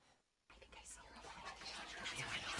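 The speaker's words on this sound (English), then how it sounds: "At the door, she heard whispering." Hushed whispering from inside the house in the video game What Remains of Edith Finch, breathy and indistinct, starting after a brief quiet and growing steadily louder over soft background noise.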